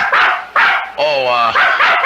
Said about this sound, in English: Byron is my dog